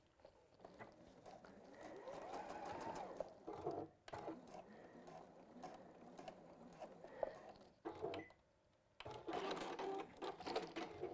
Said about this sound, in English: I'm just going to stitch across there just to make sure that that is as close together as it can possibly be